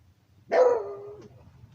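A dog barks once nearby, a single loud bark with a short whining tail, in an otherwise quiet indoor setting with no talk.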